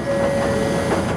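A train runs on rails, giving a steady, fairly loud rolling rumble with a constant humming tone for the whole moment, and no voices are heard.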